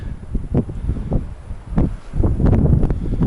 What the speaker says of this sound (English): it's really windy. You can hear that